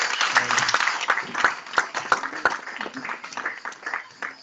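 A church congregation claps together in a dense burst of applause, a rapid crackle of many hands that stays fairly even across a few seconds before easing slightly.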